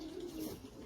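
Pigeons cooing softly during a morning feed, a brief low steady coo heard close by.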